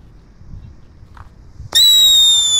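A paper-wrapped King Thunder firecracker goes off after a quiet fuse, with one sudden sharp crack followed by a loud, high ringing tone that holds to the end.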